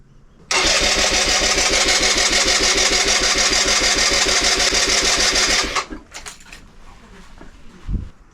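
A Suzuki Van Van 125 motorcycle, left unused for twenty years, cranks over on its electric starter in a fast, even, buzzing churn for about five seconds without catching, then falls quiet with a few clicks.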